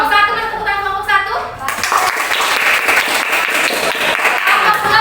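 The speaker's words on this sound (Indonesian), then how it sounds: "kelompok 1, mas tepuk tangan kelompok 1" Classroom group of students applauding together, a dense burst of clapping that swells after a spoken voice and continues steadily for several seconds, close and loud.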